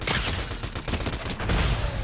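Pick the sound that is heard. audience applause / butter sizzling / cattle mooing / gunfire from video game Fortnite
gunfire from video game Fortnite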